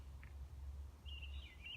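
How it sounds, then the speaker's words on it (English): Birds chirp and call outdoors, with a brief call early on and a longer, clearer warbling phrase later, over a steady low rumble of background noise. "the bird song right now"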